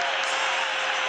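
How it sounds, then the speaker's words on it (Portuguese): Stadium crowd applauding Athletico and Flamengo players at a Copa do Brasil 2019 match, a dense, steady roar of distant clapping and noise filling the whole brief moment. "Palmas para Atlético e Flamengo. A arquibancada reconhece."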